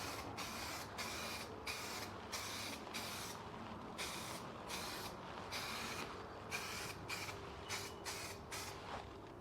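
Repeated bursts of spray paint hiss across a car panel on an MGB build, each pass starting and stopping sharply in a steady rhythm, loud and close with no talking.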